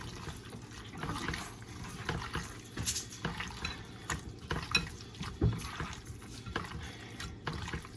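Raw chicken being squished and turned by hand in a wet Italian-dressing-style marinade, irregular soft squelches and slaps at close range with no talking.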